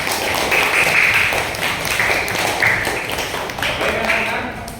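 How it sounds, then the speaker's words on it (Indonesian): A class of students applauding together in a school classroom: steady, dense clapping that carries through the whole stretch with some voices mixed in. "Tepuk tangan untuk kita semua."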